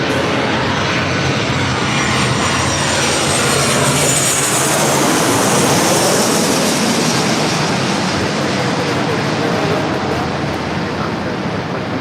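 Loud, steady roar of a Delta 737 airliner landing at LAX, broadband jet engine noise and rushing air that fill the whole stretch without letup and swell slightly midway.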